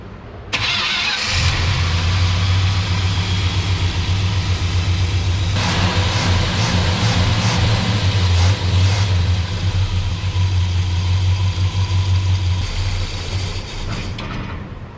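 A Dodge Sweptline pickup truck engine, starving for fuel, cranks and catches, then runs loud and steady at close range with a rough, uneven idle before faltering near the end.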